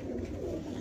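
A female pigeon coos once, a brief low close throaty call.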